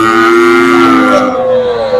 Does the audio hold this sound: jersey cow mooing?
yes